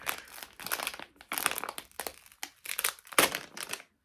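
Plastic packaging crinkles and crunches in irregular bursts while a yarn advent calendar is opened, close and moderately loud with brief pauses between handfuls.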